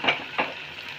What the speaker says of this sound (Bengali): আমি কিন্তু এখানে দুটো দুটো করে ভেজে নেব